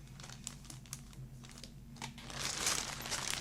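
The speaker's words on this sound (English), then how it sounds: "The little plastic bag I can see inside with the clear parts." A plastic bag of clear parts from a Hasegawa 1/48 Kyushu J7W1 Shinden model kit crinkles up close, irregular rustling bursts that grow denser and louder toward the end.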